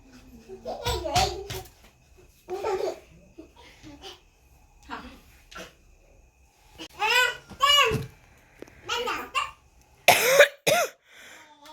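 A person coughs several times in sharp, scattered bursts during a baby's naming ceremony at home, mixed with nearby talk and children's voices.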